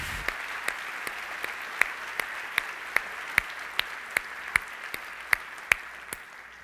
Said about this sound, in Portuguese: Vamos aplaudir mais uma vez ao Senhor.